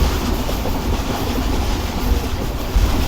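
Rehman Baba Express passenger train running at speed, a steady loud rumble with rhythmic clickety-clack of wheels on rails heard from inside the carriage.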